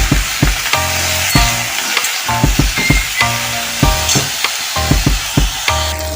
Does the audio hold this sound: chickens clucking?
no